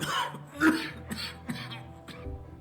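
A few harsh coughs and throat-clearing sounds in a bar in the video game Alpha Protocol, close and moderately loud, spread across a couple of seconds.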